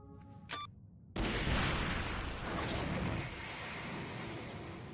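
A delayed charge explodes in an anime battle scene: a short beeping tone, then a sudden loud blast that roars and rumbles on for several seconds as it slowly dies away.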